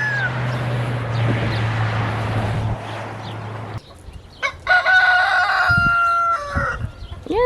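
A rooster crows loudly and close by in a backyard poultry run, one long harsh cock-a-doodle-doo after a stretch of low steady hum and clucking.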